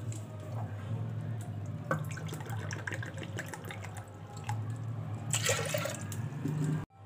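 Water splashes and trickles in a bowl as dal lentils are rinsed by hand in a kitchen before cooking, a close, steady sloshing with scattered drips and a brief louder pour near the end.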